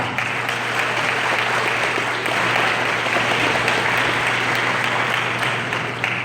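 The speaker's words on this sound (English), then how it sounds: "Give them a round of applause." At a Delta Sigma Theta student achievement program, an audience gives sustained, even applause for high school honorees. Dense clapping fills a hall at steady volume for several seconds beneath a faint low hum.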